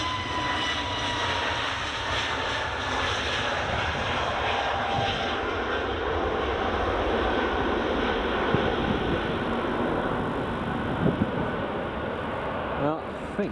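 A Ryanair airliner at Edinburgh Airport produces a loud, continuous engine roar that holds steady throughout, with a voice talking faintly underneath.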